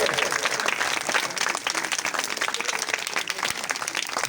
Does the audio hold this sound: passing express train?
no